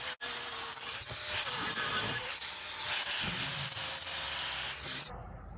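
Coarse 40-grit sandpaper rubbing across a cast iron pan during restoration, a continuous close scratchy hiss with slight back-and-forth swells that ends abruptly.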